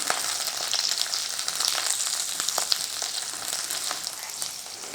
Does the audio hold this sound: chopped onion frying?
yes